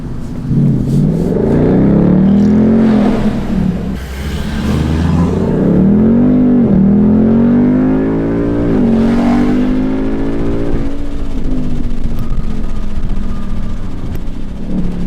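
A Ford Mustang GT with a 10-speed automatic revs loudly beneath a bridge, its engine note rising and falling through several sweeping pulls and echoing off the structure, with no speech.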